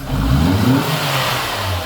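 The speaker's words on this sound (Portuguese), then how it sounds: "Então, olha só, acelera, por favor." A Renault Sandero 1.0 8V engine revs up under throttle and settles back, a steady, loud mid-pitched engine drone filling the short clip with no talk over it.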